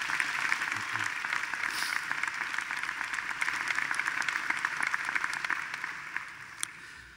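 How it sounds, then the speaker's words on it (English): Quieter, distant-sounding applause from a university commencement audience honoring faculty, a steady patter of many hands lasting several seconds with a few sharper claps standing out near the end. "let's give them a well-deserved round of applause"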